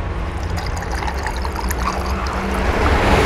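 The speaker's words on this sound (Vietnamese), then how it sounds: "Bây giờ mình rót C2 uống nha." C2 bottled tea pours into a glass, a continuous close trickling and gurgling of liquid that builds slightly toward the end, with no voices over it.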